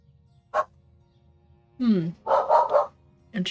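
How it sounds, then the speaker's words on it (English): A dog barks in a few sharp, separate bursts, one early, then a cluster of yelps near the end, with a quiet hum underneath and no talk. "And that was the dog."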